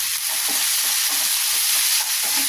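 Onion, curry leaves and green chillies sauté in a hot pan with a steady, loud broadband sizzle and occasional stirring scrapes, continuous throughout with no voices.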